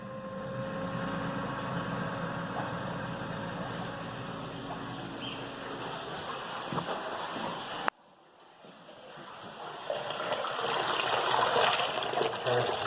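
Tap water runs steadily into an aquarium, a continuous broadband trickle and rush that cuts out briefly partway, then returns and swells gradually louder.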